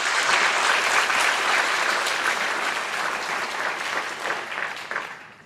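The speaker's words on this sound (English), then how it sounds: "Let's give them a big round of applause as well." A graduation audience for the class of 2020 gives a big, dense round of applause, steady and loud, then tapering off toward the end, with no talking over it.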